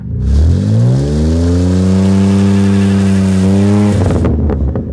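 Car pulling away and accelerating hard, its engine revving up in one long rising climb that holds strong, then cuts off abruptly, loud and close.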